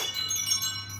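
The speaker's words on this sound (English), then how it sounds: "y'all gonna get the bell ringing right now" A single bell tone rings out and sustains with bright shimmering overtones for about a second, steady and fairly loud, with nothing else heard.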